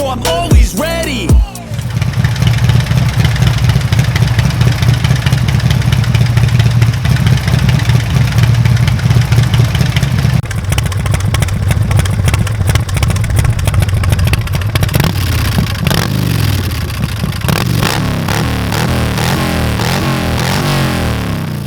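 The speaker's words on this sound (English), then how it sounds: "a Harley that's not just a bike but a work of art and power" A 190 hp nitrous-injected Harley-Davidson motorcycle engine runs loud and close, holding a heavy rumbling idle before revving harder with rising, clattering exhaust roar that stays steady throughout.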